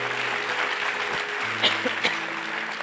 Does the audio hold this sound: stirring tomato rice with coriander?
no